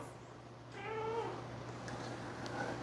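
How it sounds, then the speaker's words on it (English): A cat meows once, a drawn-out plaintive call close by, over a steady hum of background noise, followed by faint rustling. "There's a kitty down here that's wants something."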